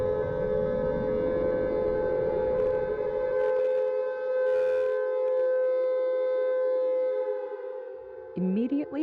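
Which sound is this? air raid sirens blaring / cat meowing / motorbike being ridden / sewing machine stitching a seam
air raid sirens blaring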